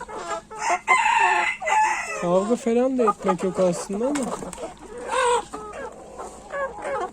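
Roosters crow and cluck close by in a muddy coop, trying to mate, with a person talking intermittently in Turkish over the birds.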